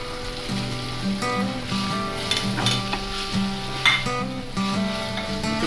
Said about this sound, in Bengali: এবার ডিমগুলো দিয়ে দিচ্ছি, দেন নুডলসটি দিয়ে দিন